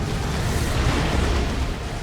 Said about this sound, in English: Catachan's getting some melter gun shots in.